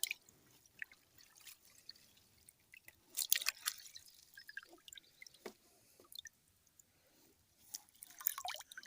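Water is poured and dribbled into a container holding tiny tiger shrimp fry at a fishery, soft irregular trickles and drips, close and quiet, with a brief louder splash in the middle.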